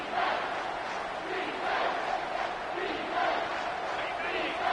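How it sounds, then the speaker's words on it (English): Crowd noise swells steadily in a football video game, a dense roaring cheer filling the stadium without a break as play heads into the red zone. "the crowd coming to life here, trying to help this defense down in the red zone"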